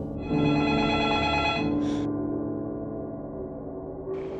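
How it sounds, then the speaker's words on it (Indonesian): A telephone rings with a steady electronic tone at close range, sounding continuously with short bright bursts of higher ringing near the start and end, heard alone. "tiba-tiba ada yang nelfon lagi"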